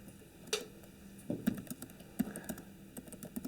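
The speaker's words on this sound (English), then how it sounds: "my hands are cold up here, so I'm having a hard time typing." Fingers type on a computer keyboard at a tech event, with scattered close key clicks in irregular bursts over a faint background hum.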